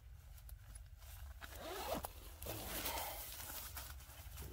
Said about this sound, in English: So, you find the zipper here. So, here's the zipper.